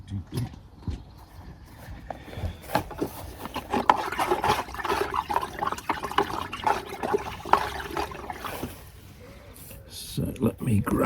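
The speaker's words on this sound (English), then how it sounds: "Let's get a cane and stir." A cane swishes and stirs nematode slug-killer solution in water, with sloshing and splashing liquid sounds alongside a voice talking over it.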